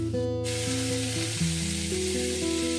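Pre-boiled carrots and peas fry in oil with capsicum, giving a steady, dense sizzle that stays loud and close throughout with no pauses. No one speaks.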